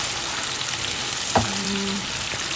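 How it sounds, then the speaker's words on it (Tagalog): Onions sizzle steadily in a hot pan for a sweet chile shrimp dish, a dense close frying hiss with a single clack of a utensil stirring midway. "Put the onions and then just stir it."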